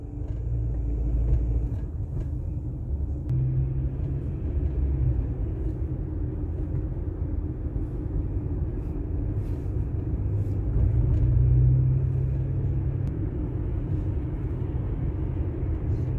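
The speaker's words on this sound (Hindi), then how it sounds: "ट्रैफिक आके खत्म होने का नाम ही नहीं ले रही।" Road traffic in Riyadh on a wet road after rain, heard from inside a car as a continuous low rumble of engines and tyres that swells slightly at times.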